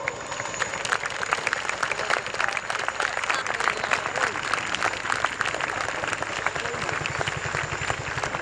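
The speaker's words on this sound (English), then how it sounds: "please give them a huge round of applause" Outdoor crowd applause at an RAF airshow for a Chinook display team, scattered steady clapping spread across an open field over a low background rumble, with some voices heard.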